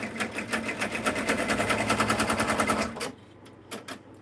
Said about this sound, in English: I'm going to stitch it in red so that you can see it.